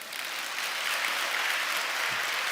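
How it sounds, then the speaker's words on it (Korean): An audience at a church prayer meeting applauds, a steady wash of many hands clapping at once, close and continuous, with no speech over it. "나는 지금 안타까워 죽겠는데 손뼉 치다니요."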